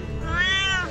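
One cat outside a food stall on Mount Lawu gives a single loud, close meow that rises and falls over about a second.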